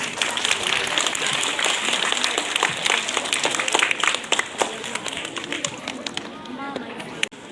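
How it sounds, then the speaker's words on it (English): An audience at a school prize distribution for half-yearly exam results claps steadily and loudly, with a voice speaking through the applause. "Clap your hands, please."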